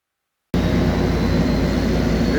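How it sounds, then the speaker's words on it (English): After a brief silence, a loud, steady King Air 350i turboprop engine drone kicks in and holds, a dense roaring hum with low rumble. "That's a Kinger 350i."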